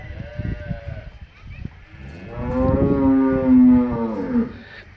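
A cow gives a long, deep moo close by, preceded by a shorter low call and some rustling.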